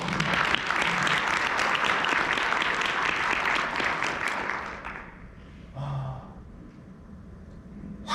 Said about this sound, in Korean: 박수 한번 주셔야죠.